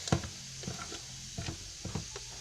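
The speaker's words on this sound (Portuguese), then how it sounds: "vou mexendo" Homemade slime made with shaving foam stirred in a container, giving soft wet squelches and light scraping taps in a few irregular bursts, close by and fairly quiet, with no talking.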